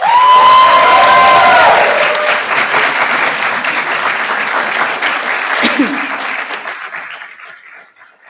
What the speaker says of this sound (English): Please applaud them back.